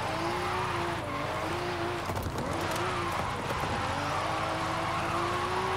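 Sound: Toyota Soarer drifting in Forza Horizon 5, video game

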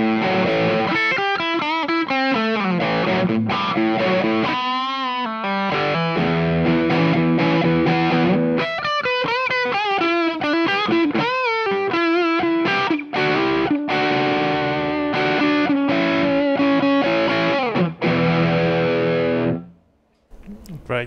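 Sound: crunchy distorted electric guitar through pedals

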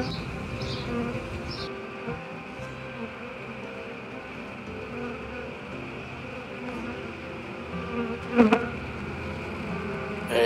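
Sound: honey bees swarming from a brick wall hive

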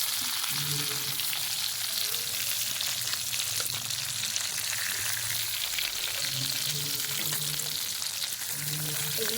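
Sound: pointed gourd (potol) lightly frying in a pan

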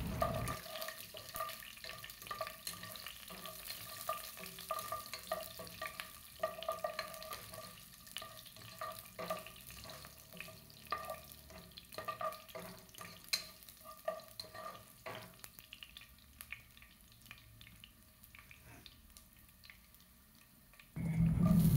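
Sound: chopped garlic frying in oil

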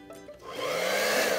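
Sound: blow dryer running

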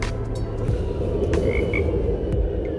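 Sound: bullfrog croaking at night

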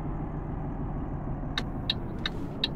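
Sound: truck engine driving, from video game Euro Truck Simulator

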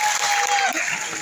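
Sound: audience applauding the engineers

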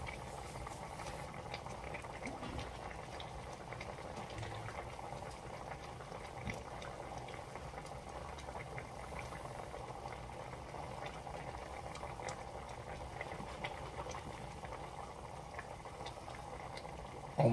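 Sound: sauce simmering in a pot for beef short ribs

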